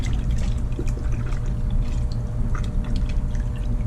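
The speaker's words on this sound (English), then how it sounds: "So I'm just gonna mix it with my hand here for now" A hand swishes Adams Graphene car shampoo through a bucket of water, a soft continuous sloshing and trickling with small splashes, close and fairly quiet.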